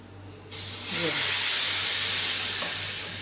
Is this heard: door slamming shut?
no